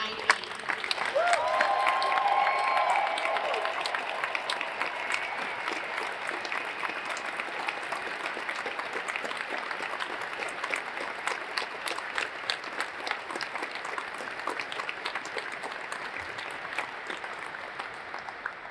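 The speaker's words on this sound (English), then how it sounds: "please give a round of applause for the 16 crew members of Moose 9-8" Audience at a Distinguished Flying Cross military ceremony applauds the 16 crew members of a C-17A Globemaster crew, a dense steady clapping that swells loudest at the start and carries on evenly for nearly twenty seconds, with faint voices mixed in.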